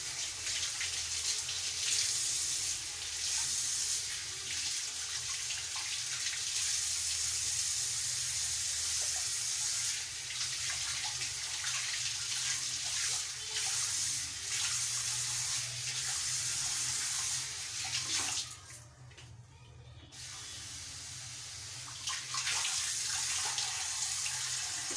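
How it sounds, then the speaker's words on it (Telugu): Fish pieces are washed under a running kitchen tap, a steady, soft stream of water splashing continuously, briefly dipping near the end before resuming. "ఇప్పుడు మనం చేపలు అనేది మంచిగా వాష్ చేసేస్తాం"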